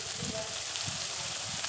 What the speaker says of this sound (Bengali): পেঁয়াজগুলো দিয়ে পেঁয়াজগুলোকে একদম লাল লাল করে ভেজে নেব।